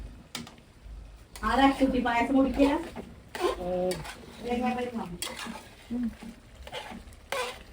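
Beef cooking in a pan, metal spoon scraping and clinking as it is stirred, with a soft sizzle underneath while someone talks close by throughout.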